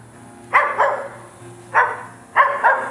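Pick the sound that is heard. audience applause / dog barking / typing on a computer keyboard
dog barking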